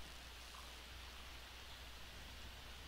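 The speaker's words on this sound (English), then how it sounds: "It's pissing down rain out here" Heavy rain falls outdoors as an even, hissing wash of noise, quiet and unbroken throughout.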